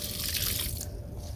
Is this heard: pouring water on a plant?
yes